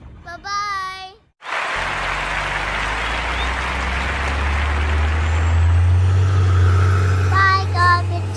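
A garbage truck rumbles past with a low, building engine drone and a hiss of air brakes, while a voice chatters at the start and end.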